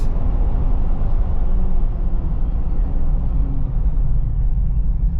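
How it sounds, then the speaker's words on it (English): A Jeep Wrangler on the road gives a steady, close, heavy low rumble of engine and tires that holds at a fairly constant level throughout, with no voices. "Up the speed, gonna hit my brakes"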